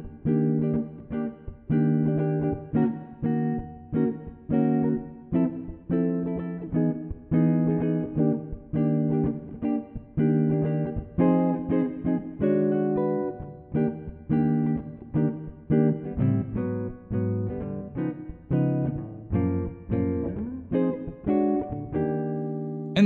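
Jazz guitar plays the A section chords of a tune, a steady series of strummed and plucked chords in a clear rhythmic pattern, close and prominent for over twenty seconds with no talking.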